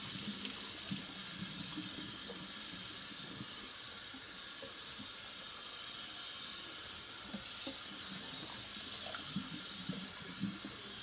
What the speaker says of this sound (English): she's rinsing it until the water runs clear